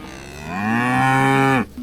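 A cow lowing on a ranch pasture, one long loud moo that swells and holds steady before cutting off abruptly, close to the listener with no talk.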